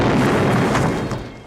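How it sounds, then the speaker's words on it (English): An explosion in the Star Trek II film, a dense, loud rumbling blast of broadband noise that fills the whole moment and fades slightly at the end, with no talking. "they look like real explosions if you ask me"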